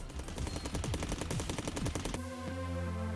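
An assault rifle fires a rapid automatic burst in the video game Cally's Trials, a loud, evenly spaced string of punchy shots lasting about two seconds before cutting off into a sustained electronic tone.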